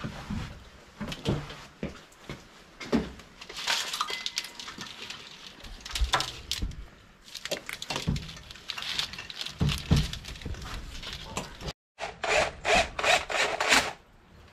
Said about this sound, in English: Just running the bolts down for the intake there now